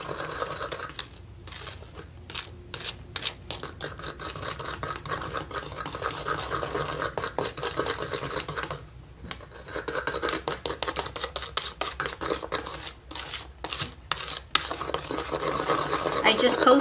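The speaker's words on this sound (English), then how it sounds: "No, I'm whisking it for sure." Hair bleach mixture being whisked in a bowl, a steady rapid scraping and clicking that runs almost throughout at close range, with brief pauses and faint talk underneath.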